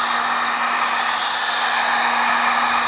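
A heat gun blows hot air onto a faded plastic motorcycle fender, a loud, steady roaring hiss with a constant hum and no letup.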